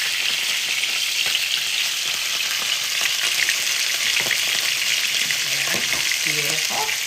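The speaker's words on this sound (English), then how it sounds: "Let's check on this salmon, see how it is cooking." Salmon fillet pan-searing in a hot pan gives a steady, loud sizzle with crackling spatter throughout, and a few utensil clinks and scrapes come near the end.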